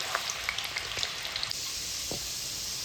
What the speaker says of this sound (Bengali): যতক্ষণ না পর্যন্ত ডালগুলো ওপরে ভেসে আসে ততক্ষণ পর্যন্ত ডালগুলোকে ভেজে নেব।